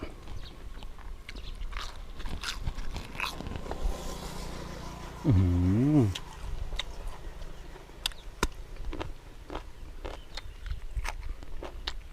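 Crunchy grilled sausage made from large intestine stuffed with lemongrass is bitten and chewed up close, with repeated crisp crunches and a brief voiced hum partway through.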